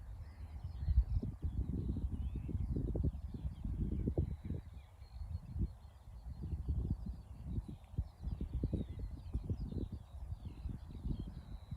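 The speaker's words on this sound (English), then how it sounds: "I don't know if you can hear the birds." Birds call outdoors beside a clover field path in open countryside, faint and distant chirps sitting above louder low wind rumble.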